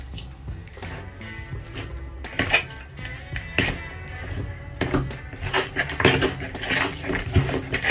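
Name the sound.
mixing onions into chicken in a pot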